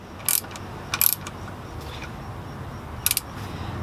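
A socket wrench ratchets in short clicking bursts while a hole is threaded into a car oil pan, three brief metallic rattles spaced apart over quiet background.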